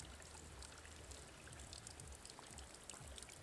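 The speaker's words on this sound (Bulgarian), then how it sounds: "Тече вода" Steady running water from a mineral water fountain in the village of Banya, a constant splashing, gurgling stream that stays even and close throughout with no pauses.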